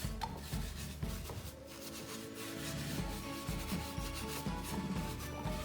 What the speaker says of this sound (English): I'm using my little metal sponge